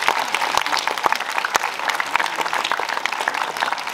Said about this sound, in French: on peut les applaudir, on peut les applaudir, on peut les applaudir.